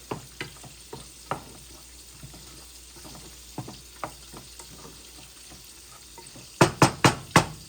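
Seasoned food gets stirred in a pan: soft sizzling underneath, sharp spoon taps against the pan at uneven intervals, then four loud knocks in quick succession at the end.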